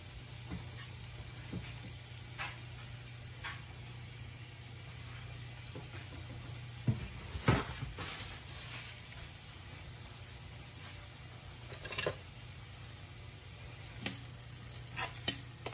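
Half a small onion frying in about three tablespoons of hot oil for refried beans, a soft steady sizzle with scattered pops and stirring clicks, quiet and without speech.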